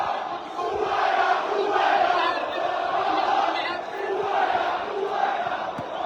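Roaring crowd of USM Alger fans rioting inside the stadium in Safi, a continuous loud wash of shouting and chanting voices that swells and dips without pause.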